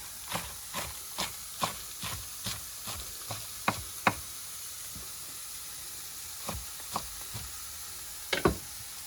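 Local spinach stems fry in a hot pan, making a soft continuous hiss broken by a regular series of sharp spatters and pops, about a dozen in quick rhythm, then a pause and a few more.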